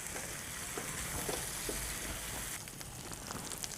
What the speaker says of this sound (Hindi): और इसको अच्छी तरह मिक्स करके फ्राई करेंगे।